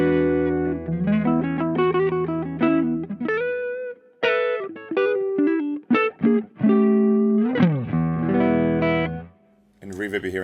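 Electric guitar played with a clean tone through a Tone Cloud Effects Jaffa fuzz pedal setup, with reverb from a Captor, ringing out chords and melodic single notes in a loose rhythm with brief pauses and a short gap near the end.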